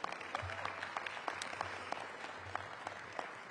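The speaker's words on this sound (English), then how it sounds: "So give yourselves a round of applause." Audience applause at a Washington, DC mayoral announcement event, steady clapping from a crowd filling the room for several seconds with a low hum beneath.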